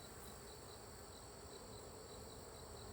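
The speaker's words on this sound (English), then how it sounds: "she was talking about a bee roar, and they will actually roar" Honeybees in a queenless hive roar with a dense, steady, loud buzzing drone heard up close and unbroken, with no talking over it.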